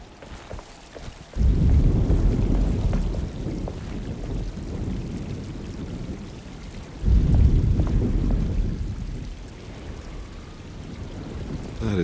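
Thunderstorm with rain: two deep rumbling rolls of thunder swell and slowly fade over a steady wash of rain and wind, loud and enveloping.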